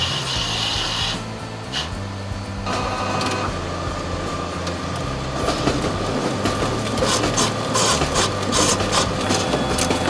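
A Xante Impressia envelope printer with its Enterprise feeder runs steadily with number 10 envelopes, giving a continuous loud mechanical rumble and rhythmic rubbing, feeding clatter with no talk.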